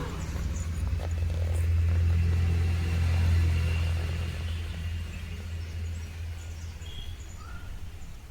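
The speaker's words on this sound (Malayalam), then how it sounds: "വണ്ടി സൗണ്ട് ശ്രദ്ധിക്കണം നോക്ക്." A vehicle engine passes by on a village road, a steady low rumble that swells over the first few seconds and then slowly fades, with faint birdsong in the background.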